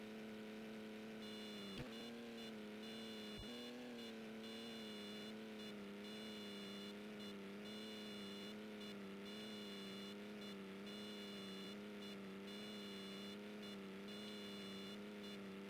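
Race car engine held at full throttle in NASCAR Heat 2002, a steady, droning high-pitched whine that barely wavers, with a couple of brief clicks early on.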